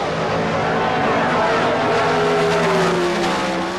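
Drag racing cars at the 1977 NHRA Summernationals launching off the start line together, a loud sustained engine roar with rising whine, with a voice speaking over it.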